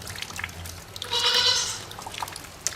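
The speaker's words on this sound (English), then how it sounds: "And the goats agree too." A single goat bleats once, a short wavering cry, heard over low background rumble and faint scattered noises.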